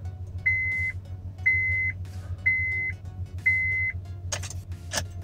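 A 2007 Honda CR-V key-in reminder buzzer sounds as the key is turned, four evenly spaced steady beeps about once a second over a low hum, followed by two brief sharp clicks.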